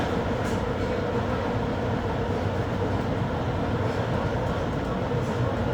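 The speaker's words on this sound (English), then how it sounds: "And this is the train to Penn Station." Steady, loud rumble and roar of a commuter train running toward Penn Station, with wheels humming on the rails in a continuous wash of noise and some faint talk beneath it.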